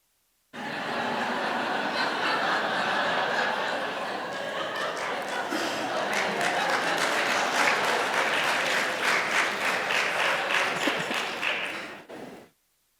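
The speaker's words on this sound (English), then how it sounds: "That's what's going to get the applause here?" Sustained applause from a seminar audience on clinical SGRT implementation, dense and even throughout, with scattered laughter mixed in, before it stops abruptly near the end.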